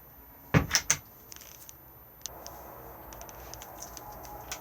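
A cutlery drawer in a 2022 Auto-Trail F-Line F62 motorhome slides and knocks shut with a couple of quick wooden clunks and a faint rattle, followed by quiet room tone and small ticks.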